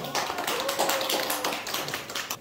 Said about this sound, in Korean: 박수 한번 다시 한번 주세요.